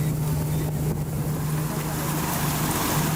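A motorboat runs at full power through river rapids, its engine a steady loud drone with a constant hum, rushing water and wind buffeting the microphone throughout.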